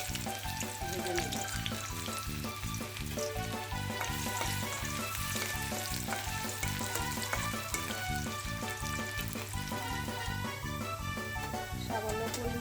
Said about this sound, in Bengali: এখন পরিমাণ মতন পেঁয়াজ ভেজে নেব